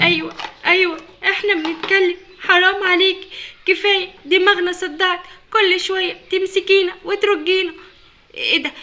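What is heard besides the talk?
No everyday noise stands out behind the speech.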